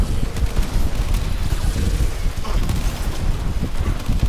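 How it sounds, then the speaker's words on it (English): Dense, continuous gunfire and explosions from the Warframe video game, a loud, steady barrage of crackling shots and bursts with no pauses. "Okay, sudden explosions."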